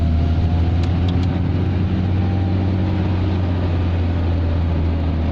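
A Dacia car's engine labours in first gear up a gravel road in Slovenia, producing a loud, steady low drone right up close for the whole stretch, with no talking.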